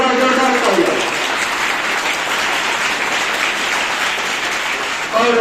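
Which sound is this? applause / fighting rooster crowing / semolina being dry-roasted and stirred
applause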